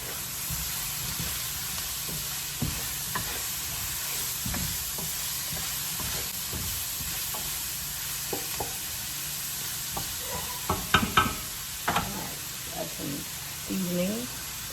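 Turnip greens cooking in a pan, a steady hiss of steam and sizzle with occasional stirring knocks and scrapes, close, while a person talks over it toward the end.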